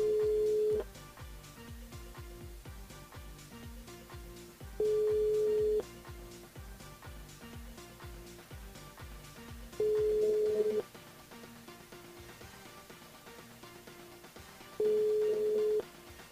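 Telephone ringback tones on a radio phone-in line: four long steady ring pulses spaced about five seconds apart, with a faint music bed beneath them.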